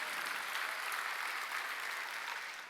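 Sustained applause from a church congregation at a Wednesday worship service, a steady dense wash of clapping that holds evenly throughout, fairly distant and soft.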